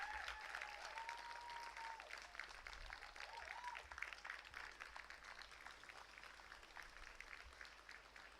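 Graduates at a convocation ceremony for a women's scholars programme applaud their parents in a long, even round of clapping from a large crowd, with a few whistles or cheers rising early on before the applause steadily carries on.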